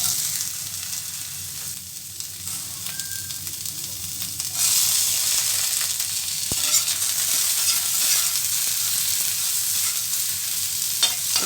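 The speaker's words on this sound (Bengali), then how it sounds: "গাজর আর বিনসটা হালকাভাবে সটে করে নেওয়ার পরে" Cauliflower, beans and carrots sauté in a pan for mixed vegetable rice: a steady close sizzle with stirring scrapes, growing louder and brighter partway through and holding to the end.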